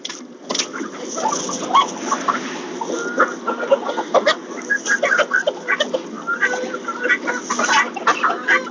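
Chickens cluck and squawk inside a chicken barn, many birds calling close by in busy overlapping bursts with no pause throughout, with faint background activity.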